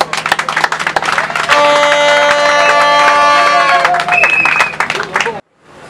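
Loud crowd applause and cheering fill a university graduation ceremony hall, dense clapping mixed with voices and a sustained musical tone, then cutting off abruptly near the end.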